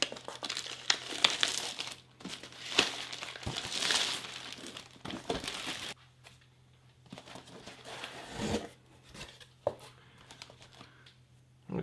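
A plastic-sealed Russian 24-hour prison guard ration pack being torn open, with close, sustained crinkling and ripping of plastic in irregular bursts, quieter rustling partway through and a few sharp tears near the end.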